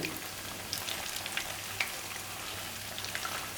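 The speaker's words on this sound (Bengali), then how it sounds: "আমরা বলগুলো, ছানার বলগুলো একটা একটা করে দিয়ে দেবো ভাজার জন্য।" Chhana (cottage cheese) kofta balls frying in oil over low heat, a continuous moderate sizzle with scattered small pops and crackles, no talking.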